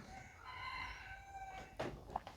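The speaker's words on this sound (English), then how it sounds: "Shut up, chickens." A rooster crows nearby with a long drawn-out call, and then chickens give a few short, sharp clucks and squawks. Heard in a quiet outdoor spot, with no one talking.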